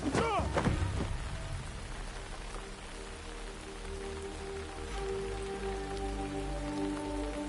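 Steady rain falling in the video game Assassin's Creed Shadows, an even close patter of drops on surfaces, with a brief melodic sound at the start and a low tonal hum beneath.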